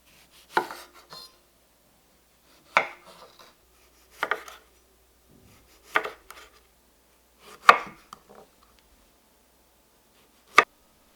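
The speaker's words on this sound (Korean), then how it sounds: "한 입에 먹기 좋은 크기로 자른다." A knife chops Daejeo tomatoes into bite-size pieces for pickling, six distinct cuts striking the board at irregular intervals of about two seconds, close and crisp with quiet gaps between.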